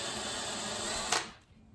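A power drill runs steadily while pre-drilling a screw hole in a homemade chalkboard easel, a close, continuous whir that stops abruptly near the end, leaving quiet room tone.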